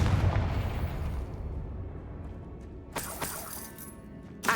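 A Confringo fire spell blast from the Hogwarts Legacy video game: a loud rumbling explosion at the start that fades away, followed by a few sharper bursts and crackles near the end.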